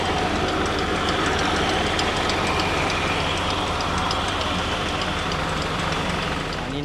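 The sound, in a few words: tractor powering a pump draining water from a field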